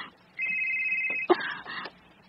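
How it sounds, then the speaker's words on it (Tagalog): Cellphone ringing in a Cebuano radio drama, a steady electronic ring tone that holds for about a second before a brief jolt and a couple of shorter pulses, moderately loud and alone. "Ang akong cellphone, kinsa mo kanina nawag?"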